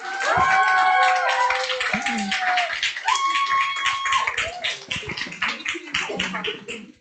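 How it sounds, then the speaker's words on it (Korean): Applause from a crowd at a company group meeting rises under a loud announcer's voice and musical tones, clapping and cheering blending together before fading out. "큰 박수 부탁드리겠습니다."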